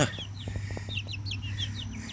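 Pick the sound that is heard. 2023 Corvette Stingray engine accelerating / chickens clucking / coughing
chickens clucking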